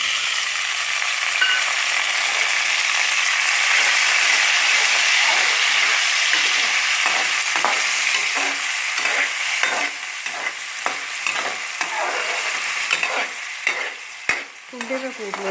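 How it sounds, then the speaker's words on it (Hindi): Tomatoes go into browned onions frying in a wok, with a steady loud sizzle and hiss throughout and a spoon scraping and stirring repeatedly in the second half. "प्याज हो गया ब्राउन, अब मैं इसमें डालती हूँ टमाटर"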